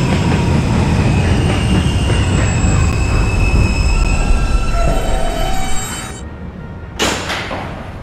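Roblox R160B Alstom R subway train running, a loud continuous rail rumble with squealing wheels and rattling that fades toward the end, followed by a brief sharp clunk.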